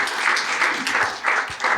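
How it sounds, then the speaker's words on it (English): Audience applause after a technical talk on Sora, the decentralized autonomous economy, a short burst of clapping with uneven pulses, fairly close and loud. "let's give it another round of applause"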